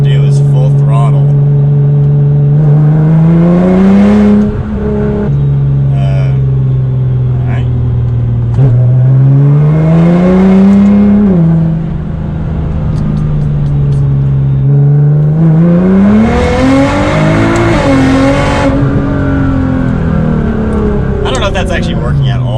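A Nissan GT-R with an anti-lag launch-control tune, its engine revving at full throttle from inside the cabin, a loud droning roar that rises and falls in repeated swells, with someone talking over it.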